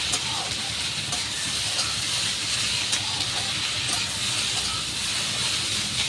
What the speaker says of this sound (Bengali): এবার এর মধ্যে দিয়ে দেব কেটে রাখা আলু আর কেটে রাখা টমেটোটা দিয়ে এবার ভালো করে আবার মিশিয়ে নেব। 1 মিনিট মতো আবার আমি ভেজে নেব।